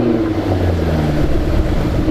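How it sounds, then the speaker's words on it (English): An F-Type's 5-litre supercharged V8 rumbles steadily at idle after starting, a deep, throaty drone with a low growl that holds evenly throughout. "I'm about to start up an F-Type 5-litre V8 supercharged engine"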